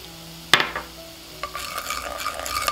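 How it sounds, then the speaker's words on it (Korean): A spoon stirs oyster sauce slowly through a hot pan for an egg rice bowl, starting with a sharp knock against the pan and then a soft scraping under a gentle sizzle. "굴소스가 다 풀어질 때까지 천천히 젓어줍니다."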